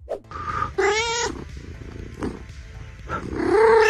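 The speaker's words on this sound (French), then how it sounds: "Oh bon sang, un chat est à ma fenêtre." A cat at a window lets out several loud, drawn-out meows and yowls in quick succession, close by and alone, the last call rising and stretching longest.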